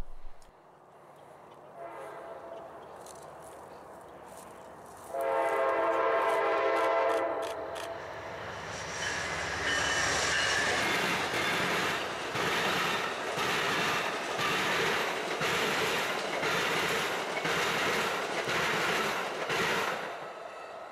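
Amtrak train 91, the Silver Star, passes at Doswell: a rising rumble, then a loud horn blast, then a steady rolling roar with regular rhythmic clicks of wheels over rail joints.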